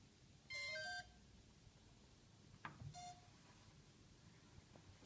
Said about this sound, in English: Please make sure that you have heard 3 short beeps.